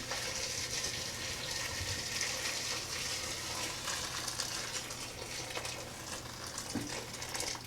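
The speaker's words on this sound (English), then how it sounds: "I've got my boiling water, so just pour it in" Boiling water poured into a crock pot of beans, a steady rushing splash with a low hum underneath, continuous and close for the whole stretch.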